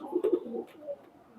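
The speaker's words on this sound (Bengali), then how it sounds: "এই যে কবুতর জোড়া" A highflyer pigeon pair coos softly nearby, a short burst of low throaty coos at the start, then a fainter trailing call.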